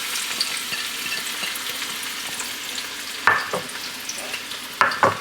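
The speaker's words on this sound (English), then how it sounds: "just when you see those onions sizzling, you'll know where to go" Onions sizzle and crackle steadily in hot olive oil, with a couple of sharp scrapes from stirring partway through.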